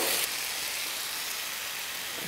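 Chopped tomatoes sauté in a hot pan for egg gravy, giving a soft, steady, close sizzle with no talk.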